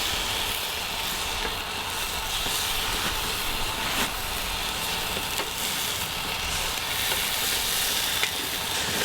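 Steaks with butter and zesty Italian dressing sizzle on a camp grill, a dense, steady, close frying hiss that runs throughout with faint clicks of flipping.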